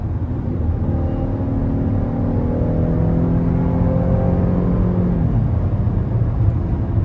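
A 2018 Cadillac XT5 Platinum AWD with a V6 pulls hard from 60 mph. Its engine note rises steadily as a droning, rising hum under the cabin road rumble, then eases off near the end, with nobody talking.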